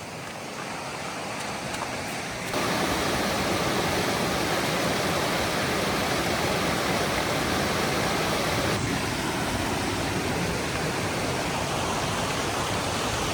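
Waterfalls and a river in the Lake District fells, a loud, dense, continuous roar of rushing water that swells up after a quieter opening and then holds steady and close.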